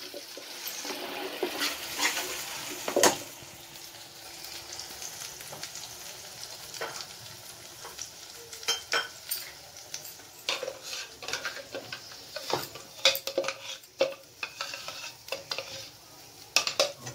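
Ground onion-tomato paste fries in a pan while a spoon stirs it, giving steady sizzling with repeated scraping and clinks of utensil on metal throughout.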